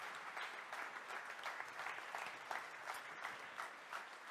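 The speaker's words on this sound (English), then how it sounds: "I'd like to keep giving you a round of applause" After opening statements at a political panel event, an audience keeps up a steady round of applause, fairly faint and distant, with the even patter of many hands continuing throughout.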